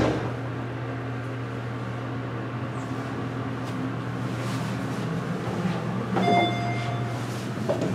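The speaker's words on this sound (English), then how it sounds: "that chime sounds pathetic" A short, thin chime from a Westinghouse hydraulic elevator at Macy's in Ross Park Mall, Pittsburgh, a replacement for the original chime, rings near the end over a steady low machinery hum.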